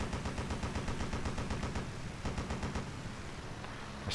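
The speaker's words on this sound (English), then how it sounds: "I've shot off a hell of a lot of bullets" Rapid machine gun fire from the Wii aerial combat game Blazing Angels, a dense rattling stream of shots with sustained bursts running continuously, loud and unbroken with no talking.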